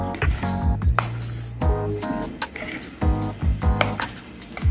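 A spoon stirs oats batter with water in a bowl, making repeated light clinks and scrapes against the bowl in an uneven rhythm, close and clear with no talking.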